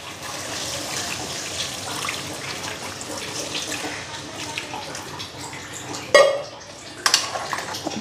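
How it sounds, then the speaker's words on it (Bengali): Water is poured into a pan of frying whole spices and ridge gourd, a steady splashing pour that gurgles through the pan, ending with a few clinks of cookware. "এখন জলটা দিয়ে নিই।"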